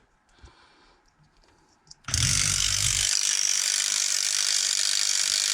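A vintage Skil 2238 cordless battery ratchet starts up after a couple of faint clicks and runs at a steady whir, near and loud, with a brief heavier grind right at startup.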